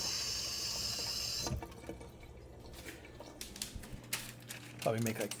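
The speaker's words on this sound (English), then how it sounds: "It's a good rinse." Running tap water rinses a salmon fillet, a steady broadband stream for about a second and a half, then quieter intermittent splashes and handling noises, with a brief louder gurgle near the end.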